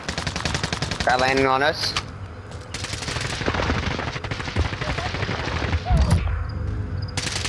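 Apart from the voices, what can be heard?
hostile gunfire in a video game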